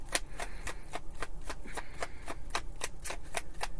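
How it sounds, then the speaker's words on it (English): An old, worn and beaten-up deck of playing cards being rough shuffled, a rapid series of crisp riffling bursts repeating steadily at close range, with no talking. "We're just gonna rough shuffle this."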